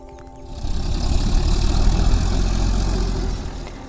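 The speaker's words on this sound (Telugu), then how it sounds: "ఇక్కడైతే ట్రాక్టర్తో అయితే దుక్కు అయితే దున్నుతున్నారు." A tractor engine runs steadily while ploughing a field at night, with a deep, continuous rumble that swells after a brief quieter start and holds loud and close throughout, with no speech.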